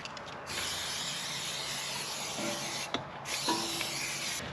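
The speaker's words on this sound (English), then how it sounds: "I'm just going to use some WD-40 lanolin spray." A steady spray of WD-40 lanolin aerosol hisses continuously for several seconds, briefly pausing once before resuming, close and fairly loud.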